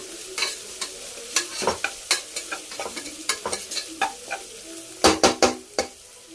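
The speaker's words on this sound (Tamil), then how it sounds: "இந்த வெங்காயத்தோட ஸ்மெல் போகிற அளவுக்கு நல்லா வதக்கிக்கோங்க" Onions with ginger paste sautéing in a pan, a steady soft sizzle broken by repeated close scraping strokes of a spoon at an uneven rhythm, quickening into a fast burst of stirring near the end, no talking.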